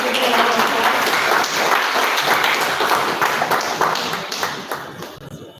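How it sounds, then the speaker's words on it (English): An audience at a facility management association event applauds as a sponsor's speaker comes on stage, dense steady clapping that thins and fades toward the end. "Please give a round of applause."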